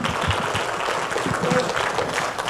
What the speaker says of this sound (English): Give them a round of applause once again.